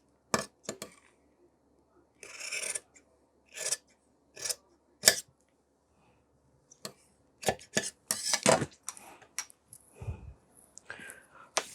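Tailor's scissors snip cloth for a school uniform in short, sharp bursts of cutting separated by quiet pauses, close and crisp, with occasional soft handling noises.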